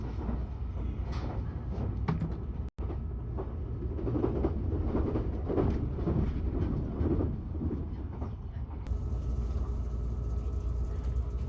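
Kintetsu Shimakaze limited express train running steadily near Nabari, passing over the Nabari River, with a continuous low rumble of wheels and carriage noise heard from inside the car, loud and unbroken apart from one momentary dropout.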